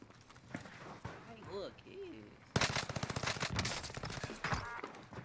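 Gunfire in a battle royale match: a quick hard volley of automatic shots erupts midway and keeps rattling in rapid bursts, loud and close, after quieter scattered game sounds and a voice.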